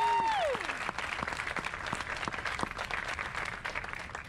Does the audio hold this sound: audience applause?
yes